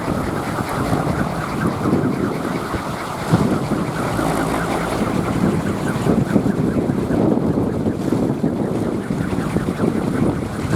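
Loud, continuous gusting wind roaring across the microphone as it strikes a pinwheel windmill, with a rough, surging texture and no speech.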